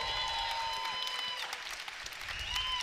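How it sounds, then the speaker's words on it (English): Steady applause from a crowd at a kickboxing event fills the whole stretch, a dense even patter with bright tonal hum riding over it. "All right, clap it up for these fighters"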